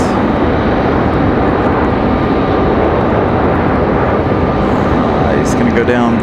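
An Endeavor Air airliner from Indianapolis arriving at Raleigh-Durham airport gives a steady, loud, broadband engine roar with no break, heard close and dominating, with a voice talking over it.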